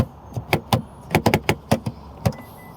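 Honda CR-V hybrid door lock actuators clicking, a string of about ten sharp mechanical clicks and clunks in uneven bursts, close and clear against quiet surroundings.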